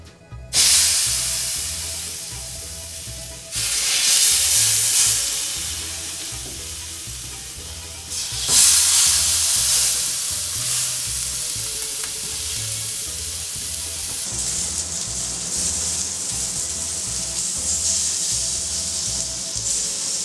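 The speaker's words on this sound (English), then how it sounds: "The point of this stage is literally just to brown the shanks." Lamb shanks browning in a hot pan make a loud, close sizzle that swells in bursts as the meat is moved or turned, then settles into a steadier, slightly quieter hiss for the latter half.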